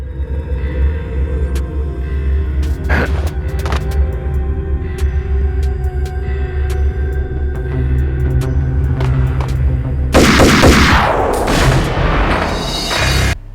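Gunfire in the Max Payne video game comes as loud, dense shots and booms over a constant low rumble, rising to a heavy burst of blasts near the end.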